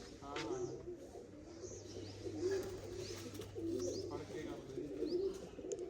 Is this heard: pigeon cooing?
yes